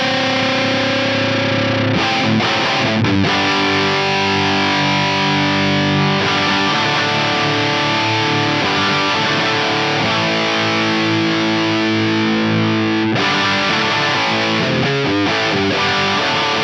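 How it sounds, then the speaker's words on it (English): An electric guitar runs through a stock Soldano amp model on a Quad Cortex with reverb, playing loud, heavily distorted riffs with brief pauses between phrases, dense and continuous with no talking. "let's just hear this Soldano at stock settings."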